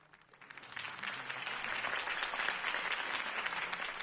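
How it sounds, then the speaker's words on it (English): A crowd at a political campaign speech bursts into applause that swells within a second and holds as a dense, steady roar of clapping. "could have heard that applause"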